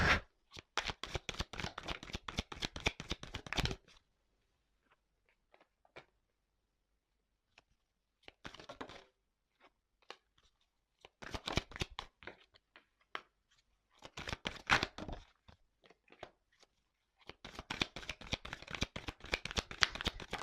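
Tarot cards being shuffled by hand: long runs of rapid, crisp riffling close to the mic, broken by near-silent pauses, with the bursts repeating several times and no talk over them.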